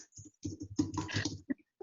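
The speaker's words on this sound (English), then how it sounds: "you can watch me typing?" Typing on a computer keyboard, heard close up as quick, uneven bursts of key clicks that pause briefly and then resume, with no voices.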